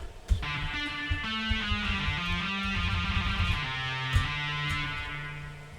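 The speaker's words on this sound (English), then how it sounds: "The next sound we hear is actually the backing guitar" Synthesized backing guitar from the Colossus guitar plugin, strummed chords sustaining over a low moving bass line, with soft accented hits marking each chord change at moderate level.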